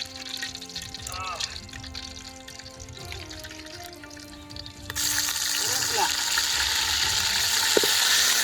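Cinnamon, clove and cardamom hit hot oil for a pork gravy, a soft crackle at first that swells into a loud, steady sizzle partway through, with faint voices early on.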